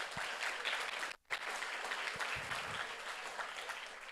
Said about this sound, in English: it definitely deserves a round of applause from the Power of Poets